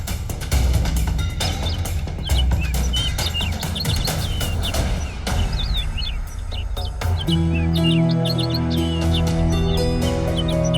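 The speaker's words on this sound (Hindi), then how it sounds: "ये चिड़िया बहुत देर से आपको आगाह करने की कोशिश कर रही थी।" Small bird chirps repeatedly in quick, high tweets, scattered over a busy background of clattering and rumbling, then continuing over a swelling dramatic music bed in the second half.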